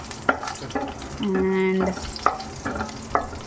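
Tempering for mango pulihora stirred and frying in a pan, with scraping strokes and sizzling, a running tap or hiss in the middle, and a voice speaking briefly.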